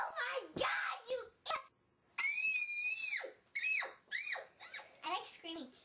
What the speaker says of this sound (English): I like screaming.